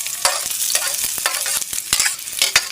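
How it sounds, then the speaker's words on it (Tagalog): Garlic and onion sautéing for pork adobo, a loud, busy sizzle close up with rapid repeated scraping and stirring strokes against the pan, with no talking. "Ayan, gisa na natin bawang sibuyas."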